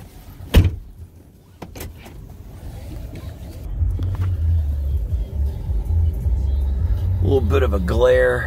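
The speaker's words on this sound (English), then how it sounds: "Let's take the car." Car engine rumble rising as the vehicle starts moving and drives, steady low drone through most of the clip, with a door thud near the start and people talking over it toward the end.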